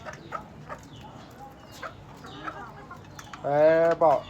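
Hens and chicks clucking in a backyard coop, with soft intermittent clucks and peeps close by, ending in a louder burst of hen calls.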